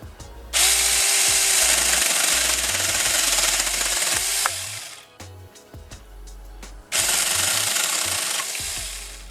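A Saker mini electric chainsaw whines loudly as it cuts wood, easing off briefly in the middle before revving back up for another cut.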